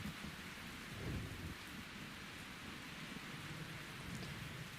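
Steady rain pours down in an anime storm scene, a dense hiss of falling water broken by a low rumble of thunder rolling in early and fading into the downpour.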